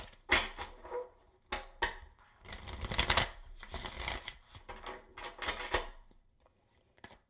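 A deck of tarot cards is shuffled close by in a series of crisp riffling bursts separated by short pauses, with no talking.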